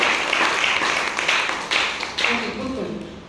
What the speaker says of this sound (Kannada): ಜೋರಾಗಿ ಚಪ್ಪಾಳೆ ಹೊಡಿರಮ್ಮ.